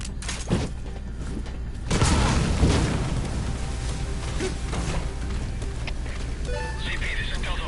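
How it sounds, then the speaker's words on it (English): In Metal Gear Solid V, an explosion bursts out as a loud, broad boom, then rumbles and fades into steady game noise, with voices heard around it. "Explosion spotted."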